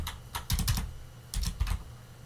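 Short bursts of typing on a computer keyboard while searching for Arduino on a Raspberry Pi 5, two quick clusters of close key clicks separated by a brief pause, with no talking.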